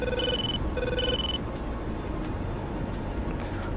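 TACAN Morse code beeping in a flight combat game, two short bursts of high electronic tones over a steady cockpit engine roar, then only the engine drone continues.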